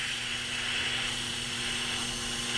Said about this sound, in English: take the stone grater, polish the surface of the grindstone down